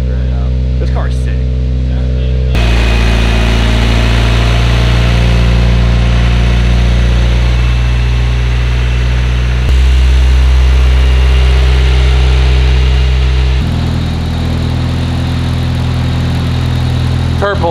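A project car's engine runs steadily and loudly throughout, with a deep continuous drone and slight shifts in pitch, as if idling and being gently revved.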